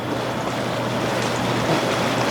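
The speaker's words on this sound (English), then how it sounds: "turn the bubbles on" Air jets churn the water of a Coleman Tahiti inflatable hot tub in a dense, steady, rushing bubble hiss, close and unbroken, with no voices.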